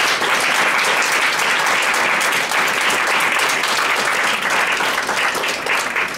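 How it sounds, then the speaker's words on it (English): An audience at a community briefing on the impact of September 11th on South Asian communities applauds the speakers, a dense, even wash of clapping from many hands that holds steady for about six seconds. "thank our speakers for the round of applause"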